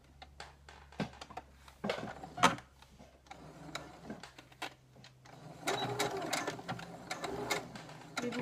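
A sewing machine fitted with a mini hem presser foot runs in short irregular bursts of stitching, close and fairly loud, with brief pauses between runs.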